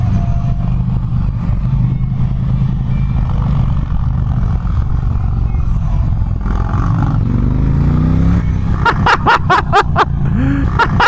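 An Indian Challenger motorcycle accelerating hard in a roll race: a loud, continuous engine roar rises in pitch as it pulls, then breaks into sharp pulsing bursts near the end, with wind noise throughout.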